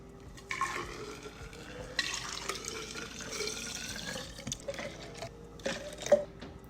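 Honey drips and trickles into a glass of okra water while a spoon stirs and clinks, a soft, wet swirling sound up close.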